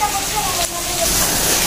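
Rain falling over a Pakistani village in the morning, a loud, steady broadband hiss of downpour that fills the whole moment without pause.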